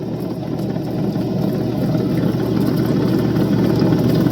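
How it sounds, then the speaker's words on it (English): Soft opal is finished on a lapidary finishing wheel. A loud, steady motor-like whir and grinding drone runs throughout and grows slightly louder toward the end, with no talking. "This stuff is soft enough, I'll probably just finish it on the finishing wheel."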